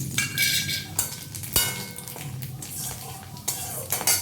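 Whole dried red chillies, cardamom, cinnamon and nigella seeds crackle in hot mustard oil in a wok, giving a steady close hiss. Scattered sharp clinks of a utensil against the pan break through it.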